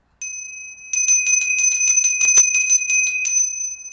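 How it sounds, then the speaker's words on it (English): A small handheld bell is rung in a rapid run of bright, high metallic strikes after a single opening ding, close and loud, continuing for a few seconds with no voice. "Let's get out the bell."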